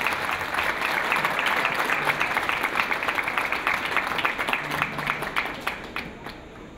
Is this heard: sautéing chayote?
no